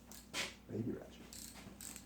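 A small ratchet with a 10mm socket works on a 4x4 transfer box, giving a few faint, quick clicking bursts and a soft metallic scrape, close up and quiet.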